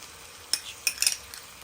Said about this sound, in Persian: ما یه چند دقیقه هم با این رب گوجه سرخش میکنیم